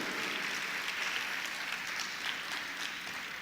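A church congregation applauds, a dense even wash of clapping that holds steady throughout, moderately distant and without talk.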